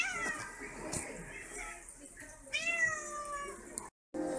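A cat meows repeatedly, drawn-out and plaintive, close by, with a brief silence near the end.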